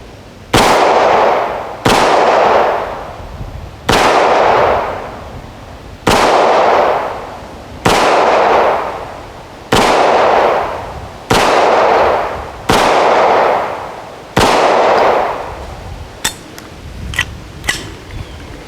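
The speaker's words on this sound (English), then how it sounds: "we'll go ahead and take some shots and see what it does" A Hi-Point JF9 pistol fires nine loud, sharp shots at an even, deliberate pace, each followed by a short echoing tail, then a few faint metallic clicks.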